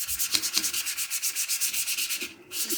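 Medium-grade sandpaper rubs back and forth across a styrofoam letter in a quick, even rhythm of about a dozen close scratchy strokes, with a brief pause near the end before scrubbing resumes.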